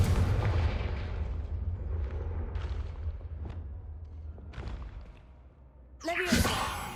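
A Confringo explosive spell from the Hogwarts Legacy video game cracks out in a sharp, loud blast near the end, following a stretch of rumbling game ambience with scattered faint impacts.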